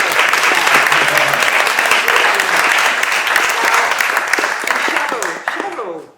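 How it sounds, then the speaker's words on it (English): A crowd at the Opal22 Art vs Social event at the Attenborough Centre bursts into loud, sustained applause that fills the room and then tapers off at the end as voices begin to come through. "give yourself a big clap, because you're so good"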